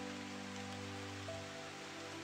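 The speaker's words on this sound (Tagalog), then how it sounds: "Malakas na ulan." Heavy rain falling steadily on a surface, a dense continuous hiss with a low constant hum beneath, no voices.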